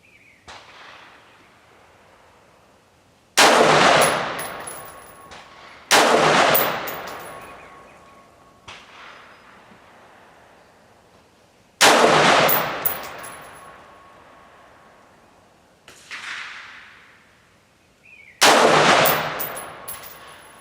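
Rifle shots ring out while a Barska budget M16-type scope is sighted in at 50 yards, five sharp loud reports spaced a few seconds apart, each with a short decaying echo, and no talking.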